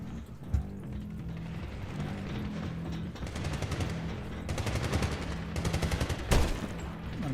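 Rapid, dense M14 rifle gunfire in the video game Medal of Honor: loud overlapping volleys that quicken into continuous crackling bursts, with a sharp close shot near the end over a low background drone.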